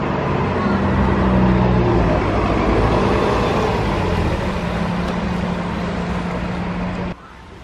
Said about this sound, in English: And the buses to the park is right around here.